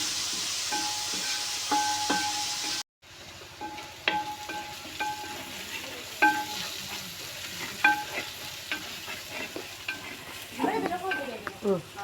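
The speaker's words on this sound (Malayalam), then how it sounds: "ഉപ്പിട്ട് നല്ലോണം ഇളക്കി സവാള നല്ലോണം ഒരു ഗോൾഡൻ കളർ ആകുന്നവരെ നമുക്കൊന്ന് നല്ലോണം വഴറ്റി കൊടുക്കാം" Chopped onions with salt stirred and fried in a pan until golden for a beef curry, giving a steady sizzle broken by repeated scraping and clinking of the spoon against the pan, close and clear with no talk.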